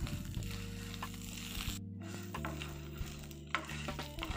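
Four or five curry leaves crackle and sizzle in hot oil for ladies finger chutney, a continuous frying hiss with occasional spoon knocks against the pan, no talking.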